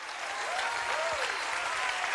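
Studio audience applause for Preslava after her impersonation on a TV talent show, a steady, even wash of many hands clapping at moderate volume across the whole stretch.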